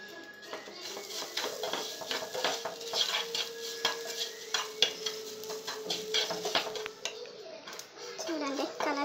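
Grated coconut is stirred into roasted semolina in a pan for coconut laddus, with continuous close scraping and clattering of a spoon over a light sizzle while a voice and other voices are heard faintly.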